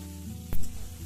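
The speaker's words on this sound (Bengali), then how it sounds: "দিয়ে দেব একটা বড় সাইজের কুচনো পেঁয়াজ দিয়ে দেব কেটে রাখা আলুগুলো" Chopped onion and cut potatoes hit hot oil with a loud sudden burst of sizzling about midway, settling into a steady frying hiss, for a Bengali cabbage and prawn ghonto; a low hum sits underneath beforehand.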